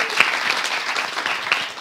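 Studio audience applauding on a French debate show, brisk dense clapping with a few sharp individual claps and faint whistle-like squeaks, steady level throughout, no talking.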